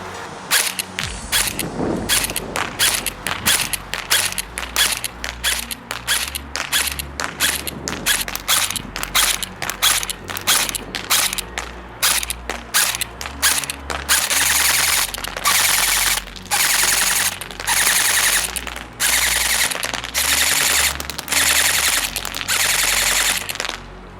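BOLT B4A1 M4 airsoft AEG rifle firing BBs, first single semi-automatic shots in an uneven rhythm, then full-automatic bursts of rapid crackling reports with a mechanical clatter, loud and close, no talking.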